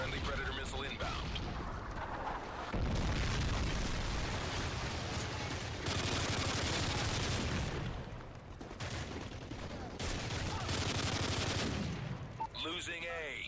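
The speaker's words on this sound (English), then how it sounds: "Friendly Predator missile inbound." Predator missile strike and battle noise in Modern Warfare 3, a video game, during Domination on the Interchange map: loud, sustained gunfire and heavy blasts, with a bigger surge of explosions in the middle and a voice speaking over the action.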